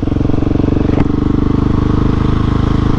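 A Husqvarna 701 motorcycle engine on a ride, a loud, steady, close single-cylinder drone with a continuous rapid pulse throughout and one brief click partway through.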